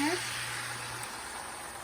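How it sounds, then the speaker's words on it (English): Cold tap water runs in a steady, even hiss over a dish used for beaten eggs after cooking a cheese and mushroom omelette, close by and unbroken for the whole stretch. "I like to do a cold rinse on anything I have eggs in"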